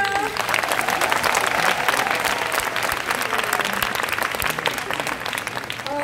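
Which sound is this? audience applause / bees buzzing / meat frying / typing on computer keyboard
audience applause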